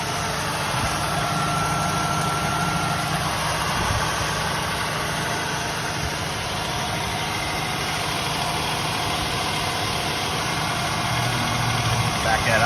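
A 1969 Buick Skylark, off the road for 36 years, idles steadily with a constant low rumble and vibration, close by and unbroken throughout.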